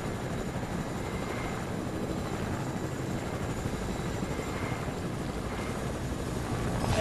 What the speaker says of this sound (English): Okay, chopper, let's get going again.